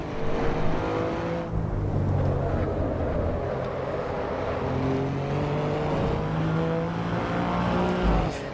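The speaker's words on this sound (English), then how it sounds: "I'm just going by engine sound and revs." Race car engine in the Assetto Corsa EVO racing game revving hard with repeated upshifts, a deep bassy drone rising and dropping in pitch at each gear change, loud and continuous throughout.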